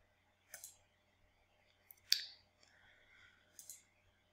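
Short, sharp computer mouse clicks while opening an interior-design project app, a few separate clicks spaced over several seconds with faint background between them.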